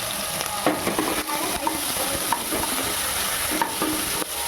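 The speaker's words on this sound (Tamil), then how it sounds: "வெங்காயம் பச்சை மிளகாய் அதோட கொஞ்சம் கண்டு போட்டு வதக்கிடலாம்" Chopped onions and green chillies sautéing in a hot pan, a steady loud sizzle broken by repeated scraping stirs of the spatula, close up with no talking.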